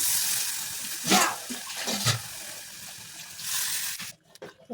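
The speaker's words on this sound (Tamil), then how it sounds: "தண்ணி சேர்த்துக்கலாம்." Water splashing into a pan of snake gourd sambar being cooked, with a couple of brief louder pours and stirring noises over a steady background hiss, ending abruptly.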